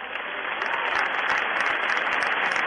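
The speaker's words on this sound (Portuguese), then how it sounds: "Vamos oferecer um aplauso para ele agora." Church congregation applauding steadily, dense continuous clapping filling the room, moderately loud throughout.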